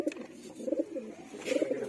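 Paired pigeons bred for flying tournaments coo close by in soft, rhythmic pulses, a few quick rolling calls at the start and again near the end, with no talking.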